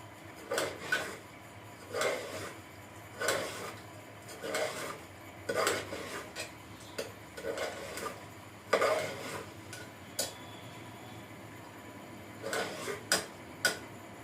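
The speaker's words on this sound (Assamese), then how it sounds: "মই ভালকৈ লাৰি মিক্স কৰি দিম চিকেন ড্ৰাই ফ্ৰুটছৰ লগত" A spoon scrapes and clinks against a pot while rice is mixed with chicken, dry fruits and spices for chicken pulao, in repeated bursts of metallic scraping about a second apart with quiet gaps between.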